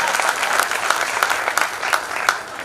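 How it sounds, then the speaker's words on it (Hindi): An audience at a Hindi kavi sammelan poetry gathering claps together in a dense, loud burst of applause, with some rhythmic sharper claps standing out through the crowd noise. "बाबा जरा एक बार ताली बजा दीजिए।"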